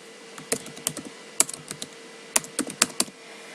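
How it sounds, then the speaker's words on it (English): Sparse keystrokes on a computer keyboard as course details and a name are entered, heard as scattered close clicks in small clusters against a quiet background. "I'm just gonna type in again whatever I need to type"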